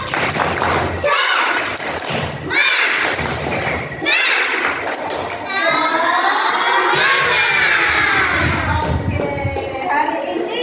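Schoolchildren in an Indonesian classroom shout a rhythmic clapping chant together, with sharp group claps and loud cheering, then a long sustained group shout rising and falling near the end.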